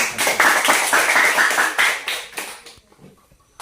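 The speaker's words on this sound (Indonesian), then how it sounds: "tepuk tangan buat" A small group claps in a classroom, brisk uneven hand claps for about two and a half seconds that quickly thin out and stop, close by with no talk.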